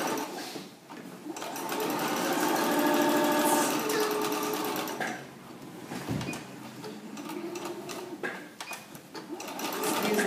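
A sewing machine stitches the seams of girls' culottes in long continuous whirring runs, pausing briefly around the midpoint before starting up again, close and loud in a household room.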